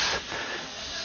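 A brief, steady hiss of rushing air, loud at first then settling into a continuous airy whoosh.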